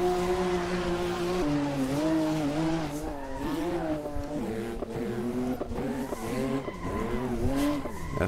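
A Porsche GT2 RS MR slides on a race track in Portugal, its tires skidding and squealing continuously under a loud, wavering engine note that rises and falls through the whole stretch.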